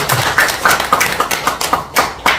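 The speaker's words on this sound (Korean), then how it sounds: "동의한다면 박수 한번 쳐볼까요?" Clapping from a lecture audience, a short run of distinct, fairly loud claps with an uneven rhythm, each one sharp and separate rather than a continuous wash.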